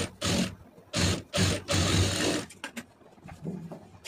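Sewing machine stitching the neckline of a blouse, running in several short bursts with pauses between them, fairly close and clear, with no voices.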